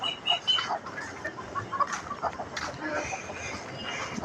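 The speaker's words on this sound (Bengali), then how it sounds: "এটা হচ্ছে আমার মুরগি বাচ্চা।" Young pullets nearing laying age clucking nearby, several short soft clucks and chirps at uneven intervals over quiet background noise.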